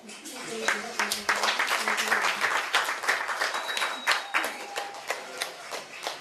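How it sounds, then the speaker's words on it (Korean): An audience at an NPO activists' workshop breaks into applause, a dense burst of clapping that gradually thins into scattered individual claps, with a voice speaking over it. "박수로 환영해 주세요."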